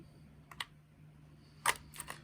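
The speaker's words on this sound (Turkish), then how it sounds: "Pillerin yuvasına oturtalım" AA batteries are pushed into the compartment of a Kchibo KK 9803 pocket AM/FM radio, making a few sharp, close plastic clicks and snaps, heard alone over a faint background hum.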